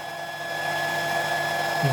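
A handheld hair dryer, already warmed up, runs steadily through a smart extension cord drawing about 530 watts; a continuous close, loud whirring blow with a constant whine, no talk.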